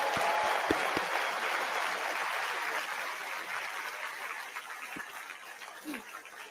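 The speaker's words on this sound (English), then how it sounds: "give her a round of applause anyway" Audience applause at the CPAC conference hall: a broad, steady wash of clapping from a large crowd, loud at first and slowly tapering off over several seconds, with no talking over it.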